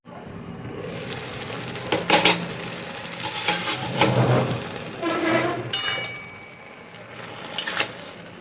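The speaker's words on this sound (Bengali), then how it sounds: "ভালো করে একটু নেড়ে চেড়ে নিয়েছি এবার শাকটাকে ঢেকে দেব" A pot of pumpkin greens being stirred and then covered gives scattered clinks and scrapes of utensil on metal over a soft sizzle, with a couple of sharp clanks near the end as the lid goes on.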